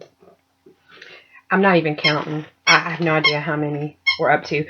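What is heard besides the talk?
dog's squeaky toy squeaking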